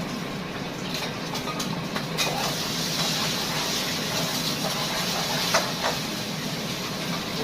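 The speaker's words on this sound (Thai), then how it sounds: "น่าจะรถไฟอะแรงขนาดไหนอะ" A train rolling past in Thailand, a steady loud broadband rush with hissing overtones and faint clanks, continuous and close for the whole stretch without any talk.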